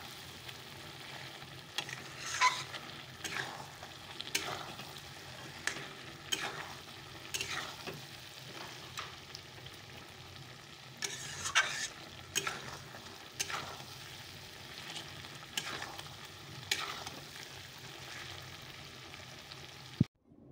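Meat curry sizzling in a pan with gravy just added, stirred repeatedly with scraping strokes over a steady frying hiss, close and moderately loud.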